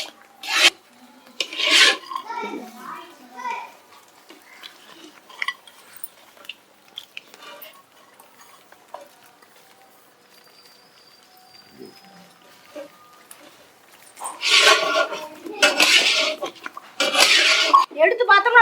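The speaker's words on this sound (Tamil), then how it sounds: "அது கிண்டிகிட்டே இருக்கணும்." Thick Tirunelveli halwa stirred in a pan as ghee separates, giving repeated rasping, scraping strokes that come in bursts, loud at the start and end with a quieter stretch between; no talk.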